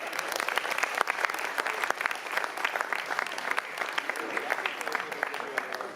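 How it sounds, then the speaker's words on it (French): An audience applauds a performer at a live show, steady dense clapping filling the whole stretch with no pauses, fairly loud and close. "On applaudit Joyeuse."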